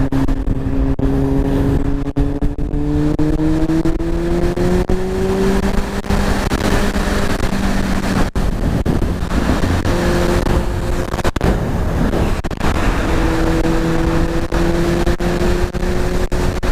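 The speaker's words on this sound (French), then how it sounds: "Je vais redescendre un peu mes rapports, j'aurai un peu plus de patates." A 50cc moped rides along a road, its small engine droning loud and steady throughout as it drops through the gears, with pitch sweeps rising between shifts as it pulls harder.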